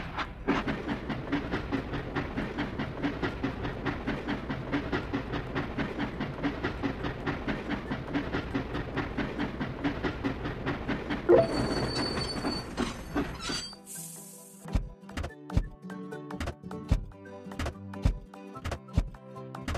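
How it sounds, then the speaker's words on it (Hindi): Cartoon train from a children's construction video game rolling toward the depot, a steady rhythmic rumble with wheel clatter for about eleven seconds, then a quieter stretch of separate clanks and knocks over musical tones. "चलिए ट्रेन को डिपो भेजें।"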